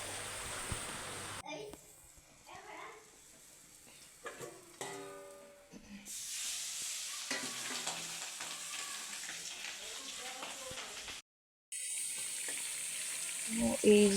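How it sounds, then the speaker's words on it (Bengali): Spice masala sizzles and fries in a pan for a desi chicken curry, with stirring scrapes throughout. A voice talks over the cooking, the sound briefly cuts out, and a louder sizzle returns at the end. "মশলা দিয়ে দিয়েছি আমি মশলাটা কষাবো"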